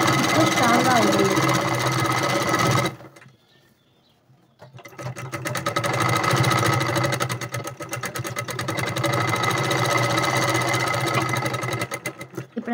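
A sewing machine stitches a blouse sleeve seam with a steady, loud mechanical whir and rapid rhythmic clatter. It stops briefly partway through, then starts again and runs on.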